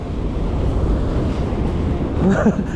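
Ocean waves wash onto a fishing shore in a continuous, close roar of surf, with wind buffeting the microphone and a brief voice near the end.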